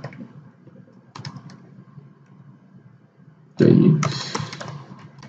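Keys on a computer keyboard tap in sparse, light clicks, then a denser louder burst of presses near the end, close by and without speech.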